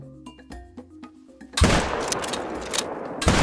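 Rifle gunfire aimed at a buffalo in the hunting game theHunter: Call of the Wild, a loud sustained blast of noise that breaks in halfway through after quieter tonal game sounds, then another sharp burst at the end.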